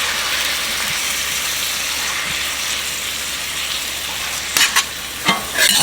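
Spinach sizzling steadily as it cooks down in a hot pan, a constant near hiss with a few louder stirring clatters near the end.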